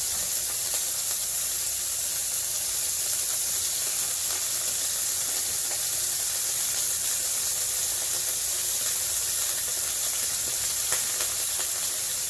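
Thin-sliced beef searing in a hot pan for beef stroganoff, a loud, continuous hissing sizzle with scattered spitting crackles, heard close and steady throughout.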